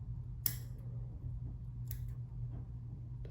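Two quick, close snips of scissors trim the body of a bucktail snook fly, each a crisp sharp cut against a low steady background hum.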